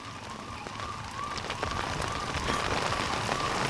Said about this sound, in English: it is raining very heavily in many parts of Mumbai